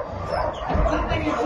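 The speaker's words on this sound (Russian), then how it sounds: "Собаки лают, переживают." Several dogs bark and yip nervously in short, overlapping bursts close by, mixed under steady nearby talk.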